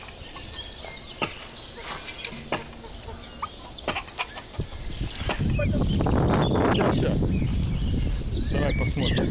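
Chickens clucking on a large farmstead near Baranovichi, heard first as scattered near calls, then beneath a louder, dense wash of flock noise while someone speaks.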